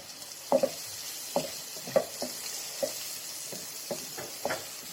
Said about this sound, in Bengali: পেঁয়াজ, রসুন, আদা বাদামি করে ভাজা হয়ে গেলে এতে আমি হলুদ গুঁড়ো দিয়ে দেব, কাঁচা মরিচ দিয়ে দেব।